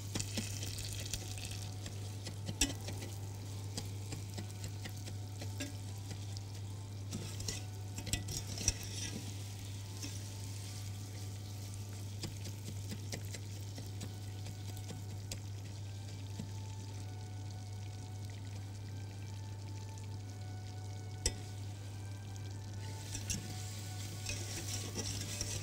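A spoon stirs a melting mixture in a pot for a chocolate tart and butterscotch pudding, giving a steady soft scraping and faint sizzle over a constant low hum, with no talking.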